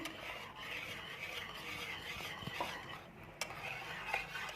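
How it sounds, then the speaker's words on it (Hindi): A spoon stirs custard mixture in a pan with continuous scraping and rubbing strokes against the metal and a few sharper clinks, close and fairly quiet, with no speech. "अब हम इसमें कस्टर्ड का मिक्सचर जो है वो ऐड करते जाएंगे आहिस्ता आहिस्ता और इसको हिलाते जाएंगे।"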